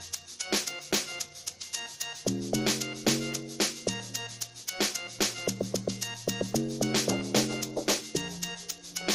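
Corrugated log drum sound in an amapiano beat made in FL Studio Mobile, punchy pitched bass notes in a bouncy syncopated rhythm over tight hats and percussion, played alone at full level.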